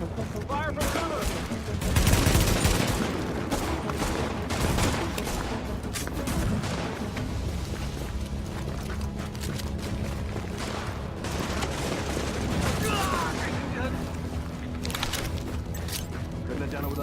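Sustained gunfire in The Division, automatic weapons rattling through a combat scene with booms and mechanical clatter, loud and continuous, with game voices calling out now and then.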